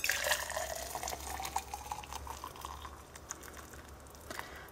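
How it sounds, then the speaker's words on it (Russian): Hot water pours steadily into a HEAD H-10 thermos, a continuous close liquid rush with small splashy bursts, no talking. "Наливать буду сколько влезет,"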